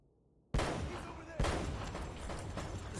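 Gunfire from the video game Uncharted: Drake's Fortune, two loud, close blasts about a second apart, each followed by a sustained noisy rumble and echo.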